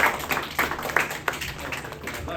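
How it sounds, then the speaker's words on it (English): A classroom applauds its teacher, Mr. Lee, with a short, moderately loud patter of hand claps from a small group, uneven and thinning toward the end. "Give a round of applause for your teacher here"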